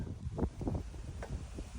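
Gusty wind buffets the microphone on a rooftop during a solar panel installation, low rumbling bursts rising and falling in quick succession, fairly faint overall with no talking.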